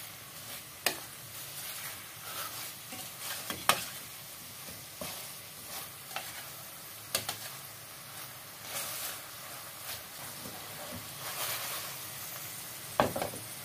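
Pork chop sizzling in a pan with onion leaves, a steady crackle of frying broken by sharp, irregular clanks of stirring and scraping, up close and without speech.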